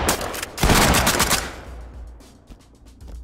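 Gunfire in the tactical shooter game Ready or Not, a loud rapid burst of automatic shots followed by fading scattered rounds and echoing tail.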